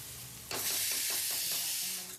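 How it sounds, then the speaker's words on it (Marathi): A pressure cooker full of dal hisses steam on a home kitchen stove, the loud, steady hiss starting abruptly and holding throughout, with faint knocks and clatter underneath. "आणि कुकर लावलाय तर ऑफकोर्स डाळ लावली त्याच्यात."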